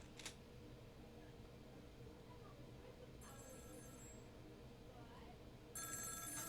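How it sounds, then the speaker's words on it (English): A telephone rings in the video game Ghost Trick, two bursts of bright electronic ringing, quiet and set over a low steady background hum. "Phone."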